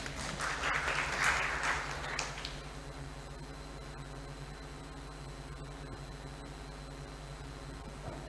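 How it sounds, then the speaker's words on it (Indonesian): Audience applause in a hall welcoming a presenter to the podium at a science and technology article session, a dense burst of clapping for about two seconds that fades into low room hum. "Tepuk tangan semuanya."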